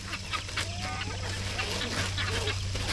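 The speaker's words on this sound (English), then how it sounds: "Hope y'all had fun feeding the chickens and the guinea hens and the turkeys." Chickens, guinea hens and turkeys being fed in a farmyard make a busy mix of clucks, squawks and short calls close by over a steady low hum.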